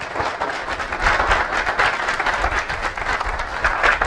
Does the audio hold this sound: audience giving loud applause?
yes